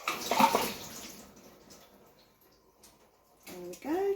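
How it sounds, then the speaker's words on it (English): Boiled potatoes are tipped into a colander, and the hot water pours and splashes in a brief rush. A second burst of draining water follows a quiet gap. "drain the potatoes, and you can put them back in the same pan to mash"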